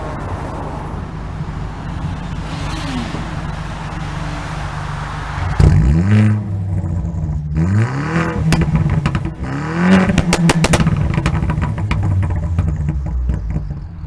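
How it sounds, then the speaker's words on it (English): A Vauxhall Corsa VXR with a stage 1 pop and bang remap idles, then blips its engine in several sharp rising revs, each falling back with crackling pops and bangs from the exhaust, loud and close in a quiet car park. "just listen to how the VXR sounds now."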